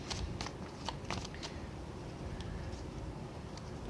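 Tarot cards being shuffled and drawn, soft papery flicks and light snaps recurring over a quiet background, close but faint, with no speech.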